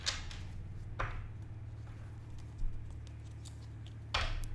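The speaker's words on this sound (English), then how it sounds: "Let's get a couple more shuffles here." Tarot cards are shuffled in a few quick riffling bursts, faint and close, with soft rustling between them and no speech.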